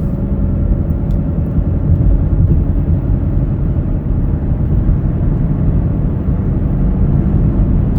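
Cabin of a 2019 Chevrolet Equinox LT cruising at about 60 mph, a steady low road and engine rumble with muted wind noise throughout, no voices.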